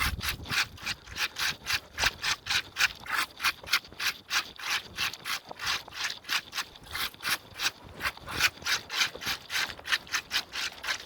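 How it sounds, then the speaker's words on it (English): Brush rake dragged repeatedly across stony garden soil, a steady rhythm of close, loud scraping and rattling strokes as the bed is smoothed, with no talk. "I'm going to take my brush rake and rake it smooth first."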